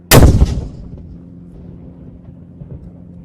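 A ceremonial artillery gun salute fires at the King Charles III proclamation ceremony in September 2022. A single loud, close boom is followed by a low rumble that fades over the next few seconds.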